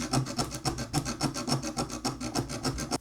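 A hand saw cuts steadily around an electrical box set in drywall, heard as close, rhythmic back-and-forth rasping strokes at about five per second, with no talking.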